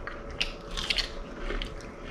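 Someone bites and chews fried snakehead fish nuggets at close range, producing a few crisp crunches and soft chewing sounds with no talking.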